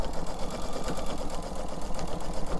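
A sewing machine stitches a quilt seam in a steady, fast, even whir of needle strokes, close and continuous, with no talking.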